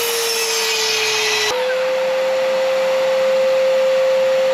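A power saw cutting a scrap piece of 4x4 wood, its motor whining at a steady high pitch with a grinding bite that ends abruptly, after which the blade keeps spinning with a clear, sustained hum, close and loud.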